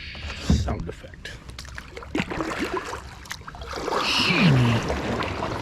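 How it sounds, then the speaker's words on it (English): A kayak paddle dips and splashes on the Grand River, with soft strokes and water trickling past the hull while someone talks nearby. "It is a beautiful day for a paddle."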